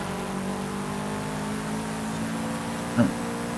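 Steady engine whine of racing cars droning past in Forza Horizon 5, a continuous mechanical hum with a brief louder burst near the end.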